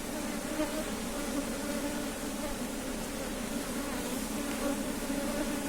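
A honey bee swarm hums around opened hive frames in a steady, dense buzz that stays constant and close throughout.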